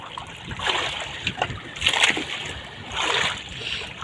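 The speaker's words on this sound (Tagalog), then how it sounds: "Kasi masyadong malalaking alon dito mga katangay." Large sea waves splash and surge in repeated bursts, rising and falling in loud, close washes of water with a steady background hiss.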